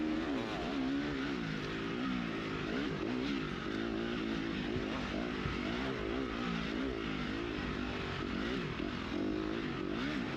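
KTM dirt bike engine at a GNCC off-road race at Camp Coker, a steady loud drone that holds near and constant throughout, with no voices over it.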